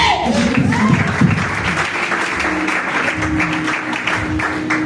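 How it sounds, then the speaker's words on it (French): Church congregation applauding together, a dense, steady wash of clapping lasting several seconds with voices and shouts mixed in early on. "Acclamez-le."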